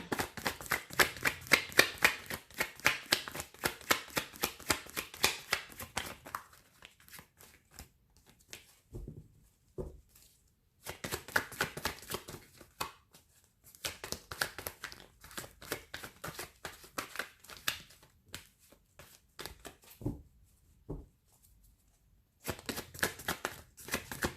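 Tarot cards being shuffled by hand, in repeated rapid riffling bursts separated by short pauses, close and fairly quiet.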